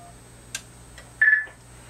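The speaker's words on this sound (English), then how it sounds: "we can hear our triple beep letting us know we're on the air" A radio transmitter switched on through a RemoteShack remote-control transmit menu gives a short triple beep, three quick pulses of a single tone, preceded by faint clicks.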